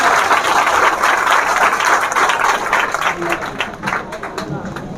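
An audience at an Independence Day gathering claps steadily in a loud, sustained round of applause, with voices mixed in underneath.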